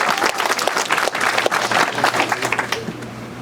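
A church congregation at a harvest sermon claps steadily, a lively, close, uneven patter of many hands with distinct individual claps standing out, continuing throughout over a low steady hum.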